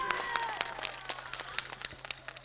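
Scattered hand claps from a mushaira poetry audience, light and uneven, patter over a faint background hum without building into a full ovation.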